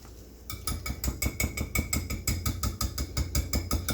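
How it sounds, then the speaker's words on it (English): Eggs are stirred into a batter with peanut butter for homemade dog treats, producing a rapid, regular clacking and scraping of a utensil against a bowl, close and continuous with no talk. "And then we'll give this a stir."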